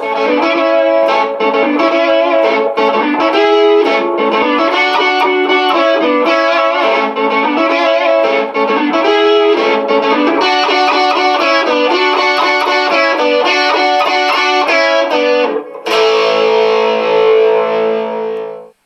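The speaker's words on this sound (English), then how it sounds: "So I can program a guitar harmony part" Distorted electric guitar lead with a doubled harmony line from a programmed harmony effect, playing a continuous melodic phrase, loud and close, ending on a held ringing note.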